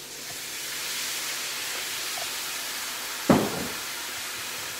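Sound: deglazing the pan with white wine, sizzling

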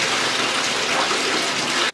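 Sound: bathtub filling with tepid water from tap

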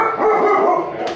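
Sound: dog barking

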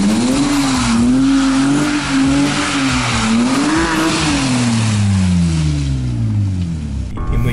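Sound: BMW E30 drift car driving on winter road

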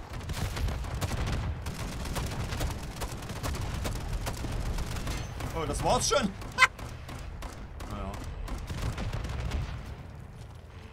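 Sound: gunshots in a video game

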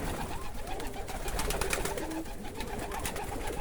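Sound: Polish Widin pigeons cooing

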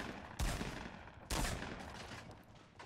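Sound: gunfire in the video game Fortnite

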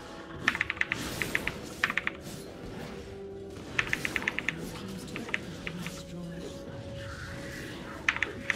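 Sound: typing on a computer keyboard

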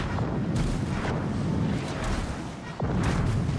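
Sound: depth charge explosions in a naval warship video game

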